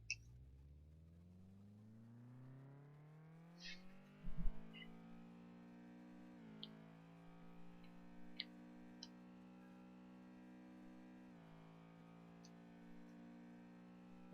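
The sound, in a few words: car engine running on a dyno in the video game Juiced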